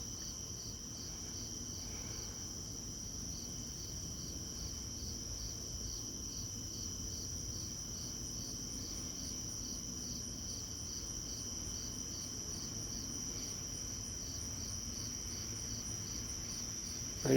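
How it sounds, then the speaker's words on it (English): Crickets chirp in a steady, high, pulsing chorus through a quiet night, faint and continuous, with a low hum of distant traffic from a nearby street beneath them. "Some crickets."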